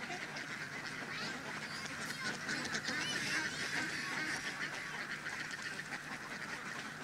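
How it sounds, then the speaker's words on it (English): A flock of farm ducks quacks and honks at a fish pond, a continuous, overlapping chorus at moderate distance over a steady outdoor background. "The ducks can thus move about freely on the pond"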